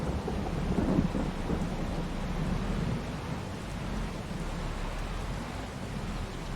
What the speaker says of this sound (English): Rain's not exactly helping with things.